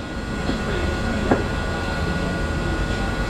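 A train rolls past nearby as a steady, loud rumble with faint wheel clatter. One brief sharper knock stands out midway, and no voices are heard.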